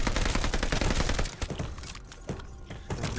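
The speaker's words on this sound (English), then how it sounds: "I'm trying my best like to get headshots on them. Because you can do 90 damage by shooting your head." Sustained rapid gunfire from shooting zombies in Call of Duty: Vanguard, dense and loud for the first second and a half, then thinning into scattered shots and thuds.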